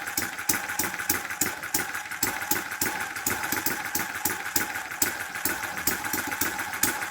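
An old water-cooled farm engine of the kind once used to drive threshing machines runs steadily, giving a rapid, even chugging close by that holds the same beat throughout.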